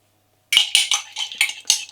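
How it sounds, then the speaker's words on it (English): Metal spoon clinking against the sides of a cup while stirring coffee and water, a quick series of bright, close taps after a moment of silence. "what I'm doing now is just mixing a little bit of coffee"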